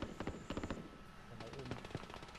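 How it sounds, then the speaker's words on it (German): Gunfire in the video game Call of Duty: Warzone, heard as quick, rapid bursts of automatic shots that are fairly faint and stop and start over a couple of seconds. "Links von uns kommen schon Schüsse."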